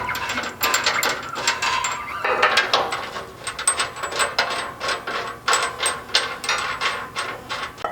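A ratchet or wrench clicks and rasps in quick, uneven bursts while 1.5 inch long 1/2 inch bolts with clear zinc washers are driven into rivnuts in a 3rd gen Toyota Tundra frame during a Strike slider install, close and steady throughout.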